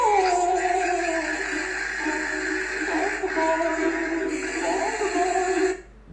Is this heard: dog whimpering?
yes